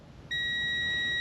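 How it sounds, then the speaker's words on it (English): A multimeter on continuity setting gives a steady, loud electronic beep when its probes touch a terminal and wire on an Evinrude Playmate outboard motor, a clean continuous tone that starts abruptly and holds. "Continuity there, it's beeping."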